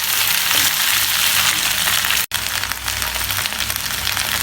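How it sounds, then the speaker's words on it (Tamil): Okra frying in an iron kadai gives a steady, fairly loud broadband sizzle that runs nearly the whole time, with one brief dropout partway through before the crackle resumes. "நல்லா ஃப்ரை ஆகட்டும்."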